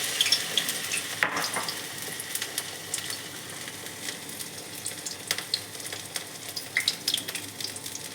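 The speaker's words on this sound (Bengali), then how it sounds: "ব্যাটারের মধ্যে চুবিয়ে ঠিক হাতের তলায় নিয়ে এইভাবে গড়িয়ে তেলের মধ্যে ছেড়ে দিতে হবে" Pumpkin flowers dipped in batter sizzle loudly and steadily in hot oil as fritters fry, with occasional light clinks from handling in the pan and no voices.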